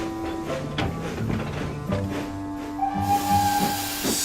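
Edward, a Thomas & Friends steam locomotive, puffs along slowly in a rhythmic series of soft chuffs, followed by a louder steady hiss of steam toward the end.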